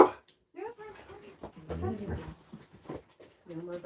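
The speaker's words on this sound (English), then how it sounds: "No more barking." A dog barks indoors in a few short, sharp bursts, overlapping with people talking nearby throughout.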